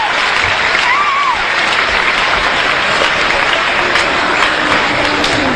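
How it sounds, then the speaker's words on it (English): A loud, dense burst of applause from a school assembly after a motivational speech, crowd clapping held at full strength throughout with faint cheering mixed into the wash. "Give him a round of applause"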